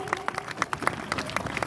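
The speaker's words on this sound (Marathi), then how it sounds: "आजीसाठी एकदा जोरदार टाळ्या वाजवा प्लीज." Scattered applause from a small audience for an elderly grandmother after she is out in a game, sparse uneven claps at moderate distance with some crowd noise.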